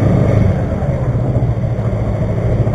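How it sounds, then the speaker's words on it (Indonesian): A motorcycle engine running nearby with a loud, steady low rumble and slight fluctuations, heard alone without talk. "motor kesayangan gue banget nih"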